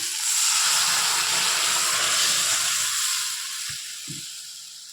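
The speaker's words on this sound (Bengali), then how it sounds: "জল শুদ্ধ ডালটা ঢেলে দিলাম কড়ার মধ্যে" Boiled chana dal and its cooking water pour into a hot wok, setting off a loud, sustained steamy sizzle and hiss that slowly fades as the pan cools, with a couple of soft knocks near the end.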